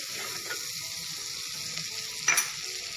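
Butter, Kashmiri red chili and coriander stirred together in a hot pan for pav bhaji, a steady close sizzle of frying with a couple of soft scraping stirs and a brief louder clatter near the end.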